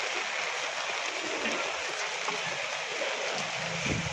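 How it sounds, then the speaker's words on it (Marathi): Steady rain falls at a village fish market in Achara during the July monsoon, a continuous fine hiss with a few sharper drops, fairly close and without talk. "पाऊस लागतोय, छत्री इथेच बंद करूया आपण"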